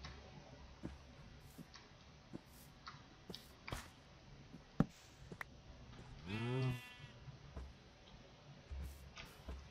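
A Minecraft cow lets out a single drawn-out moo partway through, standing out against quiet game ambience with scattered clicks and ticks from gameplay.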